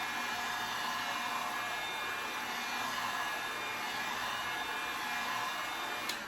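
A hair dryer blows steadily on wet paint on a wooden DIY sign, one continuous loud whooshing hum with no pauses and no voices.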